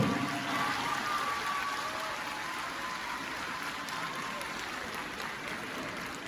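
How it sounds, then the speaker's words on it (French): Applause fills a hall at an official ceremony, a dense even patter of clapping that stays steady and moderately loud before slowly tapering. "On applaudit très très fort, s'il vous plaît."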